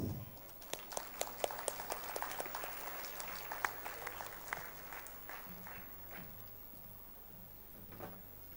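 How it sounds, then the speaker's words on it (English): A gathering at an inter-religious meet in the Basilica of Bom Jesus offers warm applause to welcome a speaker, scattered, uneven claps with sharp nearby hits that thin out and fade toward the end in a reverberant hall. "Let us welcome him with deep reverence and a warm applause."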